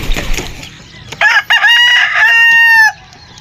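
Rooster crowing loudly and close by, with hens clucking around it, in a misty early-morning backyard flock of chickens before sunrise; one long drawn-out crow dominates after brief clucks.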